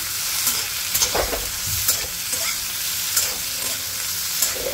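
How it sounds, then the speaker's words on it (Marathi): Green chilies and potatoes frying in oil for sabudana khichdi, a steady hiss of sizzling with occasional soft stirring knocks from a spatula against the pan. "ही अशी हिरवी मिरची पण तेलात छान परतली गेली पाहिजे"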